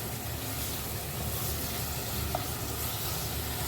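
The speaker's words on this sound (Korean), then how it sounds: "그냥 소스 넣고 볶으면 끝이요" Sauce-coated tteokbokki rice cakes stir-frying in a hot pan, with a steady, broadband sizzle running unbroken throughout and no voices.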